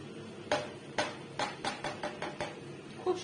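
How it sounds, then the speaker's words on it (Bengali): Biryani rice with kewra water being stirred in a pot, a series of about eight distinct knocks and scrapes of a spoon against the metal at an uneven rhythm, with a final clank like a lid closing. "আবার নাড়িয়ে চাড়িয়ে বন্ধ করে দিচ্ছি"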